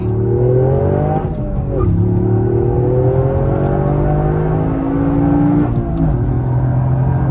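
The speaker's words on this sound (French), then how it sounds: "on se retrouve dans la voiture avec Théo qui conduit" A Toyota GR Yaris with a 261 hp engine accelerates hard, heard loud from inside the cabin as the engine note climbs through the gears with brief dips at each shift.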